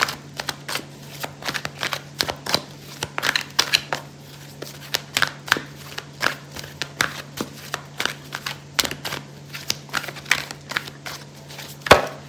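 Tarot cards being shuffled by hand, a steady run of crisp riffling and slapping bursts repeating for the whole stretch, close and fairly loud over a low constant hum, with no talking.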